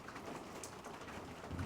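Steady rain falls in Southampton, England, on a stormy day with thunder around, a continuous soft patter hissing evenly across the whole stretch with no voices.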